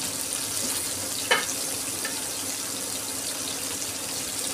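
Pumpkin greens with shrimp being stirred as they fry in a pan, a steady soft sizzle with one brief scrape of the spatula, no talking.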